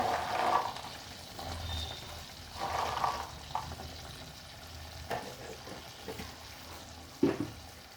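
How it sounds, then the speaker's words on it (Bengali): Vegetables, peas, turmeric and spices being stirred and fried in a pan for dhokar dalna, a soft close sizzle with intermittent scraping stirs and occasional sharp utensil clicks. "ভালো করে এগুলো কষিয়ে নেব।"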